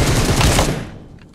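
Heavy-weapons gunfire in PUBG Mobile, a dense loud burst of rapid shots that fills the first second, then fades and thins toward the end.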